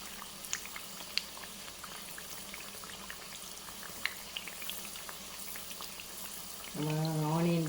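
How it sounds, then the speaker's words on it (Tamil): Bread bajji frying in hot oil, with a steady, close hiss and bubbling sizzle running throughout and a brief voice rising at the very end. "இப்படி ஆயில் கொஞ்சம் கோதி ஊற்றுங்கள்."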